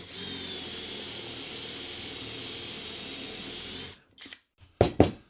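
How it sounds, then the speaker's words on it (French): A drill bores through a piece of wood held against a guide jig, whining loudly and steadily for about four seconds before stopping, followed by a few short knocks and handling clatters. "Et on perce."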